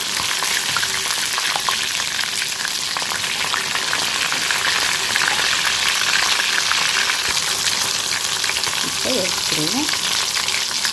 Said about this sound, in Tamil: சிக்கன் நல்லா கீறி போட்டுக்கிறதுனால நல்லா வெந்துக்கிட்டு இருக்கு பாருங்கள்